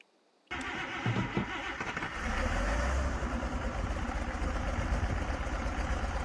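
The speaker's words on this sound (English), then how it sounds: "Custom sounds for the engine, obviously." A truck engine in the video game Farming Simulator 22 cranks and catches after a short silence, then settles into a steady, loud idle with a low rumbling throb.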